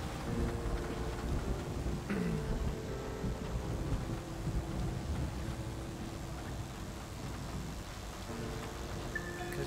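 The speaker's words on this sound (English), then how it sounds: "you got this nice little thunderstorm going on" Thunderstorm with rain in the video game Flower, a steady low wash of rainfall and rumbling thunder under faint ambient tones, soft and continuous throughout.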